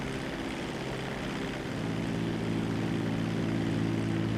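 A Grumman S-2 Tracker propeller plane drones steadily through a flight in GTA 5, with the engine tone swelling slightly louder about halfway through and holding a continuous hum to the end.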